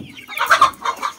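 Young chickens in a pullet pen, a few close, soft clucks and chirpy calls in quick succession, alone without talk.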